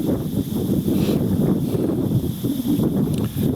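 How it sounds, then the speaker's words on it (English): Steady low rushing wind buffets the microphone throughout, with faint rustling underneath and no voices. "when you know the wind is just blowing again"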